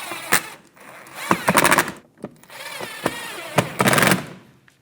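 Screws being snugged down on a 2010-2016 Cadillac SRX mud flap: several short bursts of a driver or drill, each a second or less, close and fairly loud, separated by brief clicks and pauses.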